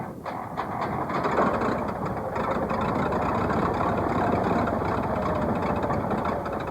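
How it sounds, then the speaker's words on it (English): Small aircraft engine running steadily after start-up, a loud continuous droning rumble with rattling texture that stays constant throughout, no voices. "was starting the engine"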